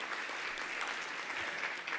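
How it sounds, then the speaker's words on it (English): Conference audience applause at the B-12 Water Cooler Conference, a steady dense wash of many hands clapping, fairly distant and even, with no break for the full two seconds. "Round of applause for Nancy."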